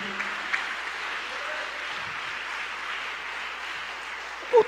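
A church congregation at a preaching service claps together in a steady, sustained patter of applause, moderately loud and even, with a brief louder knock near the end.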